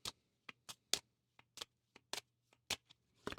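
Cards from the Kinfire Chronicles: Night's Fall tabletop game are handled and shuffled, giving a series of crisp, separate riffling bursts up close in an otherwise quiet room.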